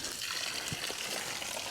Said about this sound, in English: look at that water come out of there